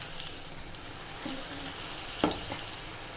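Brinjal (eggplant) pieces fry in a pan with a steady, close sizzle, broken by a few sharp clinks of stirring.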